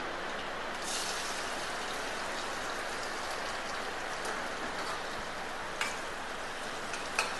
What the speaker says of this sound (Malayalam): ഇതേ പുറത്ത് നല്ല മഴ കേട്ടോ